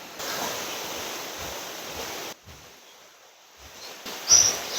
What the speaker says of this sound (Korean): 시원한 계곡 물소리 를 들으면서